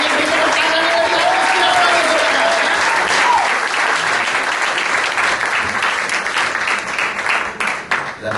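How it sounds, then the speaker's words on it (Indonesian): A church congregation gives sustained, loud applause that holds steady before thinning slightly near the end, with faint voices mixed into the clapping. "Ini beri tepuk tangan yang meriah."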